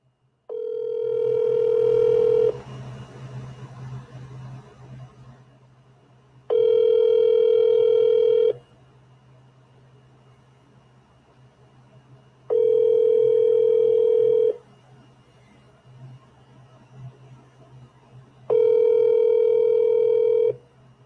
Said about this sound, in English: We're going to make a phone call real quick.